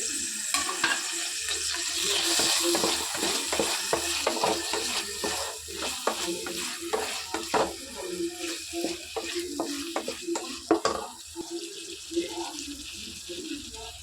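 Onion, tomato and green chili sizzle in a pan for a squid roast, with crackling frying and repeated scraping stirs of a spoon against the pan at an uneven pace, close and moderately loud.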